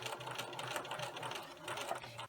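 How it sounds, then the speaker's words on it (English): A sewing machine runs steadily, stitching seams on quilt squares with a quick, even mechanical whir that carries throughout, fairly quiet and alone. "Sew 2 seams 1/4 inch away from the marked line"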